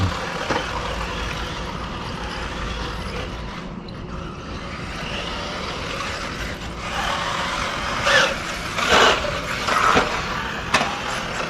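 A 1/8 scale two-wheel-drive RC buggy runs outdoors, its motor and drivetrain whirring and rattling steadily, with a few sharper throttle bursts and revs near the end.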